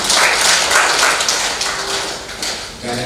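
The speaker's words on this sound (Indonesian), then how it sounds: "Kita berikan aplaus lagi." A hall full of people applauds at a Christmas and New Year thanksgiving gathering, with dense, steady clapping that fades slightly before swelling again at the end.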